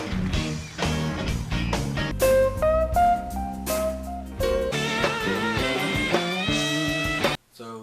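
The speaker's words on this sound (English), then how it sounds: "If you don't know what blues sounds like, it kind of sounds something like this." A blues guitar plays a short phrase of bent notes and chords, close and fairly loud, ending abruptly with a brief trailing sound and no talk.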